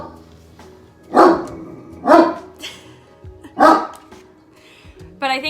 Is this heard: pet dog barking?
yes